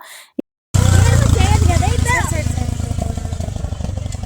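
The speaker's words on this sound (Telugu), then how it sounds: "ఇక్కడ క్వాడ్ బైక్స్ కూడా ఉన్నాయి." A quad bike engine idles with a steady, rough rumble at a resort in Coorg while a person talks loudly over it.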